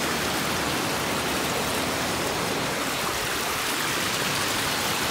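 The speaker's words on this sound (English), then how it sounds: "they have that little waterfall that goes through here" Small waterfall running through the grounds of a resort in the Dominican Republic, a steady, dense rush of falling water that holds constant and fairly loud throughout with no voices.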